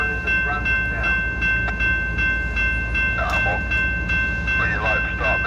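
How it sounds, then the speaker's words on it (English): An intermodal freight train of shipping containers, led by an ES-40DC with an ES-44AH behind, rolls past at Brunswick. A steady heavy rumble runs under sustained horn tones, with a few brief sharper bursts midway. "Next up was I-117, an intermodal from Philadelphia, Pennsylvania heading to Bedford Park, Illinois, just outside of Chicago, with a train of intermodal shipping containers."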